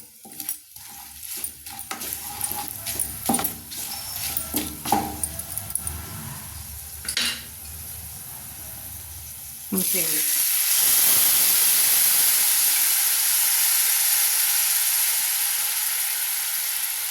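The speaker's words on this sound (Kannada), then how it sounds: "ಸಾಸಿವೆ ಪುಡಿ ಹಾಕ್ತಾಯಿದ್ದೀನಿ ಎಣ್ಣೆಯಲ್ಲೇ ಫ್ರೈ ಆಗಬೇಕದು" Mustard powder fries in oil, first with scattered light clinks and stirring, then a loud, steady sizzling hiss that fills the second half, close by.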